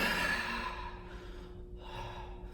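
A single long exhaled breath during a free-weight crunch exercise in a gym, fairly close and steady, with a sigh-like quality and no talk over it.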